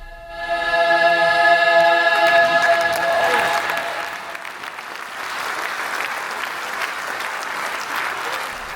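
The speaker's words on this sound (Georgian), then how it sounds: "მაყურებელმა კი უწყვეტი აპლოდისმენტები მიუძღვნეს" An audience at a tribute evening in Ozurgeti honoring a choreographer applauds continuously, the clapping swelling after a sung tone fades, then settling into an even, sustained wash of many hands.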